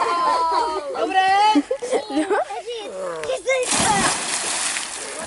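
Children swimming and splashing in water, loud sloshing splashes near the end, mixed with children's voices, whimpers and an adult talking over them.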